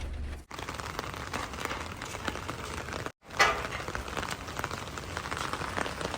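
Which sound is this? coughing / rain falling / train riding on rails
rain falling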